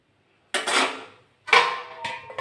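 A utensil stirs a potol (pointed gourd) and potato curry with a pinch of sugar in a pan. Two distinct scraping strokes sound close up, each about half a second long, with a short pause between them.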